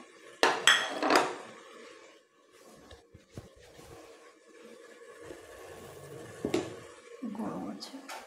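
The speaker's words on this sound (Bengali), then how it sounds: "এটা আলু ভুনাটা আমি এখানে তুলে নেব।" Metal utensil scraping and clinking against a cooking pan while aloo matar bhuna is served out, a few sharp clanks early and later, with a voice speaking over the kitchen sounds.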